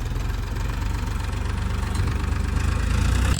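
A heavily loaded tractor engine runs steadily in the open, a close, loud, low-pitched idling rumble with a rapid knocking pulse that holds constant throughout, with no voices.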